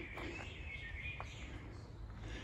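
Small birds chirp outdoors in Brasov, Romania, giving a few faint, scattered tweets over a low background rumble, with no speech.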